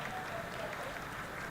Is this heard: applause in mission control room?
yes